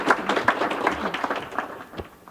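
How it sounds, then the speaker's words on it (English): Bookstore audience claps for an Amish-life author after a reading event, a room of hands striking in a dense patter that starts strong and tapers toward the end, with no talking over it. "if we could give Linda Egenes a warm round of applause"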